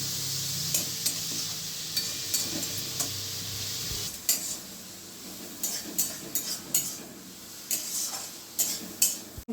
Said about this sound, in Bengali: গোল্ডেন ব্রাউন হওয়া অবধি পেঁয়াজগুলোকে ভেজে নিচ্ছি।